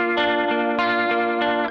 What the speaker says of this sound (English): And then I have this rotary sound in the end.